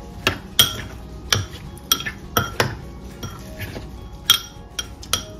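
A spoon mixing salt, black pepper, oregano and sugar for a salsa, giving loud, close metallic clinks and taps against the bowl in an irregular rhythm, about a dozen strikes.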